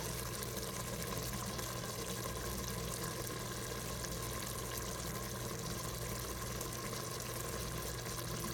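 Beef broth pours in a steady, continuous stream into an Instant Pot, a close, even liquid rush that runs unbroken throughout with no talk.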